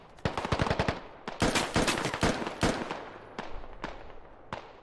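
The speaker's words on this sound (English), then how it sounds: "Adding some cover fire from his, sandbag here." Rapid bursts of automatic rifle cover fire from behind a sandbag in the military shooter Squad, loud close volleys of shots with brief pauses, then a few single spaced shots fading out.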